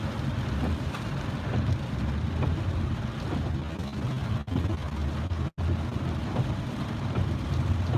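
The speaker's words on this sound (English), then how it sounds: "I'm gonna drive in the rain." Rain and wind buffet a vehicle being driven through a storm, a muffled, steady rushing roar with low rumble and a couple of brief dropouts, no talking.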